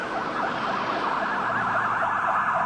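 Emergency sirens from Fresno fire, police and ambulance rescue units responding to a firecracker explosion, a steady loud wailing tone rising and falling continuously with no talk.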